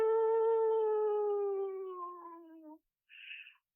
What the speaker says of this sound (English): a howl of a wolf